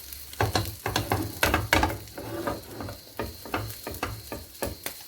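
A kaşar cheese omelet sizzles in a small pan as it is folded, soft steady frying hiss broken by close scraping and tapping of a utensil against the pan, with no voices.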